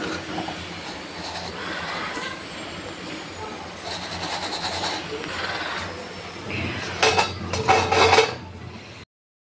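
Fried gobi (cauliflower) pieces being moved into a bowl in a kitchen, with clattering utensil and dish contact in several quick bursts near the end after a steady background of sizzling-like noise.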